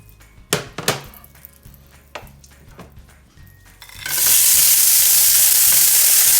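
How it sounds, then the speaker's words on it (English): Small pre-cooked shrimp drop into bacon grease in a cast iron skillet: a few clattering knocks and handling sounds, then a sudden loud, steady hissing sizzle that fills the rest. "So we're gonna put a little bacon grease in here in our good old cast iron skillet"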